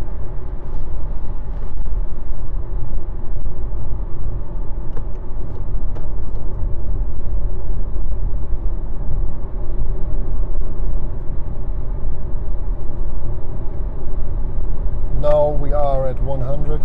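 Steady broadband cabin drone of a VW e-Golf electric car cruising at 80 km/h, low road and tyre rumble with faint wind hiss, continuous and even throughout, a brief voice near the end.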